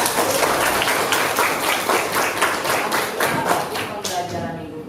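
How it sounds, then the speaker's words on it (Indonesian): A sixth-grade class in an Indonesian primary school claps for a classmate. The clapping is quick and fairly dense, with slightly uneven rhythmic beats, and it carries on for several seconds before thinning out at the end. Faint voices can be heard underneath. "tepuk tangan untuk Sakita."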